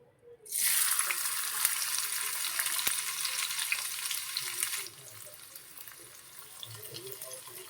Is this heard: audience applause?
no